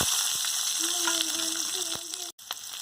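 Chopped onion and chilli sizzle in hot oil with mustard seeds and curry leaves for a chutney, a steady bright hiss with light scraping, briefly broken by a short gap near the end.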